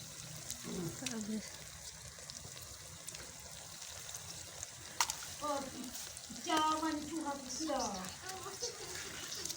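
Eggs and onions frying in a home kitchen pan, a steady soft sizzle and hiss running underneath, with voices talking over much of it.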